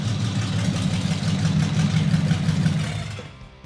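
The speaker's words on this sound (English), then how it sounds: "That's the reason I chose this engine from the start, because of the sound." Custom car engine idling close by, a steady deep rumbling throb held evenly throughout and easing off at the very end, with no talk.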